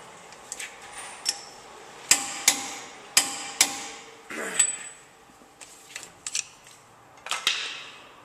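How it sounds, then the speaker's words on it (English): A torque wrench works on the CV axle center nut of a Ford Ranger 4WD, giving a series of sharp metallic clicks and ratcheting snaps spaced irregularly, close by with no talk. "Got our screwdriver and a torque wrench. Should be coming up on it."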